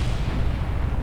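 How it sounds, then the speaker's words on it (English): Deep, rumbling explosion in Kerbal Space Program, a continuous low booming roar filling the whole moment, loud and dense with no voices over it. "Explosion down there."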